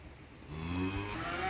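A cow moos once near a cowshed on a rural plot, a fairly close, drawn-out low call rising over quiet background.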